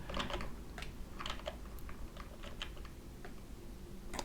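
Typing on a computer keyboard, a run of quick, irregular clicks and clacks in short bursts, close and moderately loud, with no talking.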